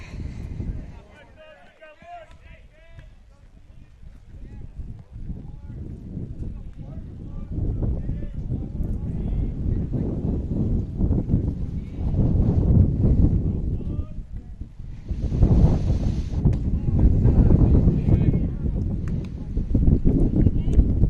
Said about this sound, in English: The wind is a strong one today.